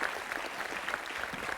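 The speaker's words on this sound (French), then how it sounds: "on peut les applaudir quand même" A TV game show studio audience applauds the contestants, a steady patter of clapping at moderate level across the short stretch.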